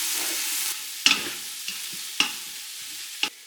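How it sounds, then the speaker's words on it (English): Shredded pork sautéing in olive oil in an Instant Pot, a soft continuous sizzle with a few sharp stirring scrapes and clicks spaced through it, close and fairly quiet, with no voices. "we're gonna saute the pork."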